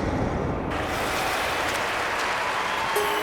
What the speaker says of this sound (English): The crowd seem to like it.